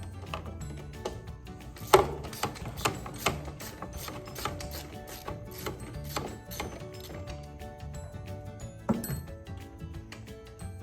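Socket wrench loosening a bolt on the shifter of a Permagreen Triumph mower, a string of quick metallic ratchet clicks in uneven bursts with occasional sharper clinks, close up and moderately quiet.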